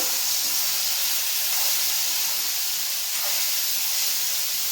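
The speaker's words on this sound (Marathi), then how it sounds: "आता आपण हे पेरूचे फोडी टाकून देऊ" Guava pieces drop into hot oil with cumin and mustard seeds, making a steady, loud sizzling hiss with faint crackles that holds throughout, close up and with no speech.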